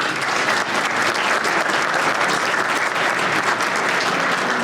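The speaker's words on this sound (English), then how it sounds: "Give them a round of applause." A dense, continuous round of applause from a breakfast forum audience for state auditor's office representatives, loud and sustained with no break.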